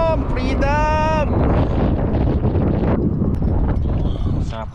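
Strong outdoor wind roars steadily against the microphone as a broad, continuous rush, with a voice briefly heard at the start and end.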